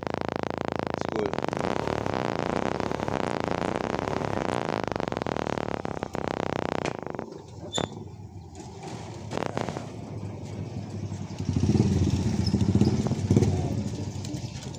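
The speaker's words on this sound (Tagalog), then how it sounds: "Mabigat lang yung motor natin." A motorcycle engine runs steadily at close range, then drops to a quieter idle-like murmur with some clatter before picking up again toward the end.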